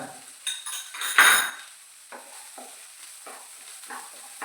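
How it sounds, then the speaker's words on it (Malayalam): Chopped onion frying in a pan for mushroom masala, a soft low sizzle broken by several scrapes and clinks of a spoon stirring against the pan, one louder clatter early on. "നന്നായി ബ്രൗൺ കളർ ആവുന്നത് വരെ ഇളക്കിക്കൊണ്ടിരിക്കുക"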